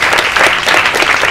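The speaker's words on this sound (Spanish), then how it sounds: "un aplauso para ti" A large audience applauds loudly and steadily after a talk on sexual diversity and gender identities, a dense wash of clapping with no speech.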